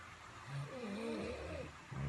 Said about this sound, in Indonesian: Tengok orang nih lomba ngorok.